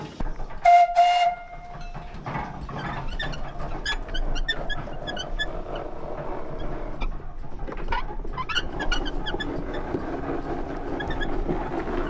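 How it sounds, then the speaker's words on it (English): A 1908 Dolbeer wood-fired steam logging engine (steam donkey) chugs and hisses steadily, opening with a brief high whistle toot, then a continuous mechanical clatter running throughout. "the machine we have behind us is a 1908 Dolbeer steam logging machine"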